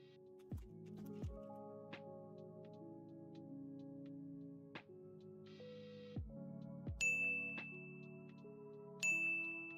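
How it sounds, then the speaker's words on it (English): Elevator ding chimes played from a computer sound file ring out twice with bright sustained tones, over a busy background of layered music or hum and a few sharp knocks. "Oh, that's a fucking elevator."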